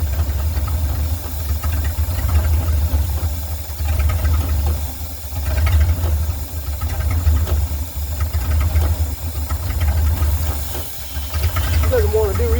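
An old engine with a worn carburetor runs rough and low as its throttle is slowly pushed, a steady loud rumble with uneven surges and hiss, alone without talk.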